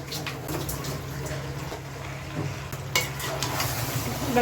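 Green peas are stirred and fried in a kadai for Kashmiri mixed vegetables. Steady sizzling sits under repeated scraping and shuffling from the spatula, with a few louder knocks toward the end.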